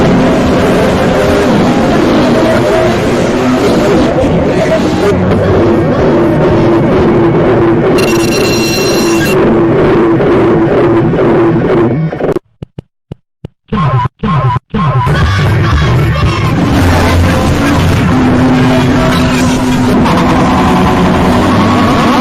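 Harsh noise music in a noise and crust style plays loud and dense, a grinding distorted wall broken by a few abrupt silent gaps in the middle before the racket resumes.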